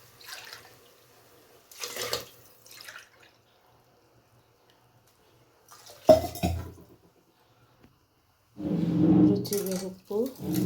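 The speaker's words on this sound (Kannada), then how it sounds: "6 ಲೋಟ ನೀರು ಹಾಕ್ತಾಯಿದ್ದೀನಿ ನಾನು." Water poured from a tumbler onto rice in a pressure cooker for a dill-leaf rice dish, a short burst of pouring and splashing near the end after scattered quieter kitchen sounds.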